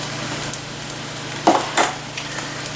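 Pinto and black beans stirred in a soup pot, a few scraping, sloshing strokes of a spoon over a steady background hiss, close and moderately loud with no voices.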